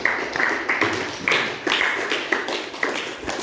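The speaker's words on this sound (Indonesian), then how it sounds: "beri tepuk tangan buat kelompok 4" Students in a classroom clap for a presenting group, a short run of quick, slightly uneven handclaps from a small group, close and without talk.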